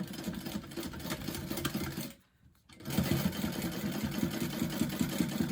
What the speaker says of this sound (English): You're going to baste really close to the edge.